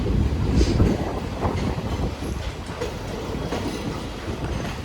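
A railway accident relief train rolls along the track with a close, steady, heavy rumble and rhythmic wheel clatter throughout, with no voices.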